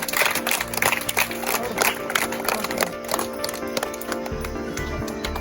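An audience claps for a prize-winning government school student, with sustained crowd applause filling the space throughout, dense and fairly loud with a few louder thumps.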